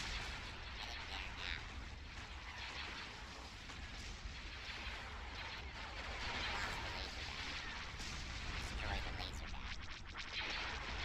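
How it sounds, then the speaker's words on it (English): Ships in the video game Star Wars Republic at War fire all their weapons together, making a dense, continuous crackle of blaster and cannon shots. The battle sounds are fairly faint, and someone talks over them at times. "Firing all weapons."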